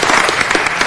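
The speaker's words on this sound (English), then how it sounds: "Let's give her a round of applause." Applause from the audience at a city council meeting, a dense burst of many hands clapping at once, loud and close, brief and continuous with no talk over it.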